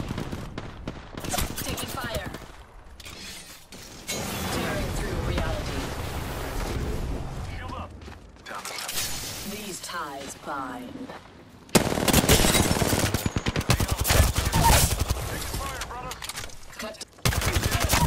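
Gunfire in the video game Apex Legends, with loud bursts of rapid automatic fire and repeated shots across the clip, heaviest toward the end, mixed with game voice lines.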